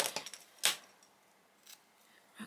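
Scissors snip through elastic in a quiet room, giving a few faint, sharp clicks and one clearer crisp cut, followed by soft scattered ticks.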